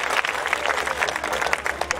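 Loud, close applause from an audience at a devotional bhajan evening, welcoming a member of parliament. Many hands clap steadily and densely throughout, with a low hum from the sound system running underneath.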